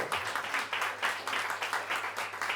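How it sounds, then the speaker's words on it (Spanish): A church congregation claps together in steady applause, a dense even patter of many hands that holds at a moderate level throughout. "Dale un fuerte aplauso al Espíritu Santo"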